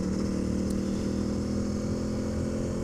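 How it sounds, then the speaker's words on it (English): Honda CRF300L motorcycle with a modified stock exhaust, a steady low engine drone running continuously at moderate level with no pauses or talk. "I could actually hear the exhaust a little bit."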